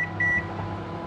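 Standard microwave oven being set for a six-minute cook: a couple of short keypad beeps over the steady hum of the running appliance, close and brief, without talk.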